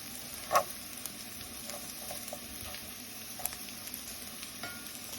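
Bacon and potatoes sizzle faintly in a pan, and a quiet stirring scrape and one louder clink stand out over the soft, steady frying hiss.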